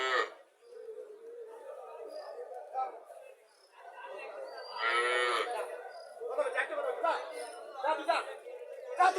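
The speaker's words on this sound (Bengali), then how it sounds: "গরু" Cows lowing at a village cattle market in Chandimura bazaar, Barura, Comilla, where local dairy cows and calves are sold; several moos rise over steady crowd chatter and bargaining voices.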